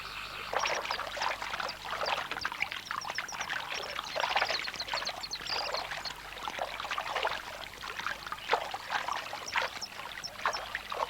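A young malachite kingfisher crash-lands in water, producing splashing and broadband water churning that persists across the whole stretch at moderate level, with no voices.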